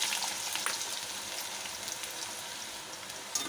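Potatoes frying in hot oil with cumin and chillies give a steady, soft, even sizzle with faint crackles, heard alone without talk.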